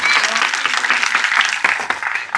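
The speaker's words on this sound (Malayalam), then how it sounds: "സോ കാരണം അവർ കണ്ണന് വേണ്ടി ക്ലാപ്പ് ചെയ്യുന്നത്." A theatre audience applauds continuously, a dense close wash of clapping that stays fairly even for a couple of seconds.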